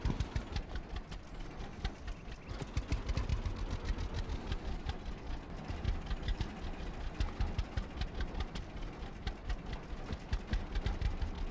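The tractor engine in the Farmer's Dynasty farming game runs steadily, a close, rumbling idle with a fast, even mechanical pulse that continues unbroken and without talk.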